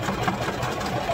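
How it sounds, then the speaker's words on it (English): A sewing machine stitches together the two raw ends of an elastic band for pajamas, a brief, steady, fairly loud mechanical whirr with rapid needle ticks throughout, with no talking. "we will just sew"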